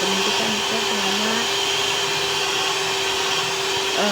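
An electric mixer runs steadily while mixing soft burger bun dough, giving a continuous motor whir at a constant level with no pauses.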